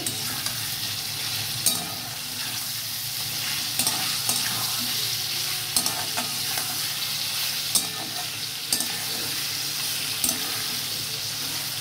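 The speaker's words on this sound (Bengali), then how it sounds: "এটাকে বেশ মিনিট 20 ধরে ভালো করে নাড়াতে হবে।" Chicken stew is stirred in a hot pan, with a constant soft sizzle and a spoon scraping and stirring at an uneven pace.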